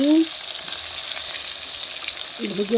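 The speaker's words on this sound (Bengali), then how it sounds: "বেগুনগুলো এখন এক এক করে নুন হলদি দিয়ে মেখে তেলের উপর ছেড়ে দিলাম" Eggplant pieces coated in salt and turmeric frying in hot oil, giving a steady crackling sizzle with faint stirring, plus brief low tonal sounds at the start and end.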